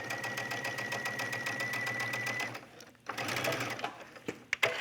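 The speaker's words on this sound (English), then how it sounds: "I'm going to slide this into the inside and stitch." A sewing machine stitching a collar onto a top, a steady close mechanical whir that pauses briefly and resumes, ending with a few handling knocks and no talk.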